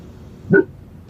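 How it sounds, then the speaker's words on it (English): A single short, muffled dog bark from an old audio cassette recording, brief and close, standing out from tape hiss. "He actually barked."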